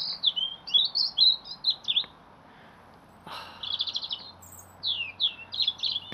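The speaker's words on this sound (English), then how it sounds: "a territorial call telling all the other robins that this is his patch" A robin sings a territorial song of bright, high warbling phrases in quick bursts, close and clear, with a short pause in the middle and no voices.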